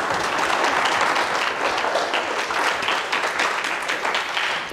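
A church congregation claps hands in praise during a worship service, a dense, steady wash of applause that stays loud for the whole stretch with no talk over it.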